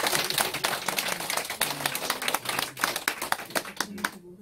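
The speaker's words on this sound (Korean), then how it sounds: "박수 한번 주세요." Audience at a Korean company partners' gathering claps together, a dense run of sharp hand claps spread through the room at moderate volume, with a few voices murmuring underneath.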